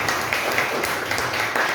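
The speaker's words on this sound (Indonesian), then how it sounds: "tepuk tangan dulu buat kalian" Classroom clapping from a group of pupils at a teacher's request, a steady dense patter of many hands lasting the whole short moment, moderately loud and without talk over it.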